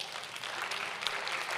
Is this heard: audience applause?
yes